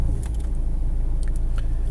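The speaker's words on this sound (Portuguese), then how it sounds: "desculpa o ruído aí que eu tô dentro do carro gravando" Inside a parked or moving car with the air conditioning switched on, a constant low rumble and airy hum fill the cabin, with a few faint clicks and no speech.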